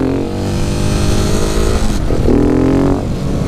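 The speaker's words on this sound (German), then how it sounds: "irgendwie habe ich Probleme damit, jetzt in zweiten Gang, in dritten Gang zu schalten." A motorcycle close by accelerates hard, its engine revving up and dropping briefly at each gear change into second and then third, loud and continuous.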